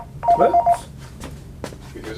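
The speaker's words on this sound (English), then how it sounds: "That's the phone ringing." A telephone rings in a radio-show studio: a short, loud electronic tone burst near the start, followed by quieter handling noises and a brief spoken remark.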